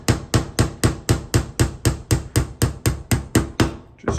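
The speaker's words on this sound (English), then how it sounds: "start the pin with the teeth facing forward, and then start tapping it in with the hammer." A hammer tapping a pin into a CZ P10F magwell, a close steady run of about fourteen sharp metallic taps at an even rhythm, then a short pause.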